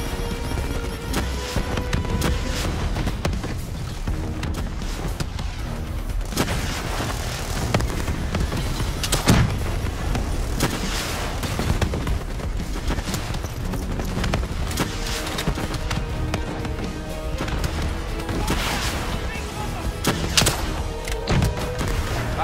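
Dense, continuous gunfire fills a Call of Duty Black Ops 3 campaign battle, with rapid overlapping shots, sharp cracks and booming impacts layered over a loud, constant combat din.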